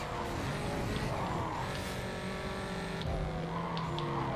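Corvette race car in the video game Need for Speed Carbon, its engine roaring steadily and close with rising and falling revs, tire noise and other cars nearby, no talking.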